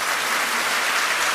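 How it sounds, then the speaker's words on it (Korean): Dense, steady applause fills the room as the new leader and supreme council members of the Bareun Party are announced, a continuous wash of many hands clapping at once with no talk. "축하의 박수를 보내주시기 바랍니다."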